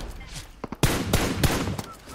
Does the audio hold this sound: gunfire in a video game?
yes